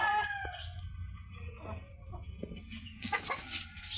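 Chickens cluck and call at close range near an egg-laying nest box, with scattered short clucks and a louder flurry of calls toward the end; no one speaks.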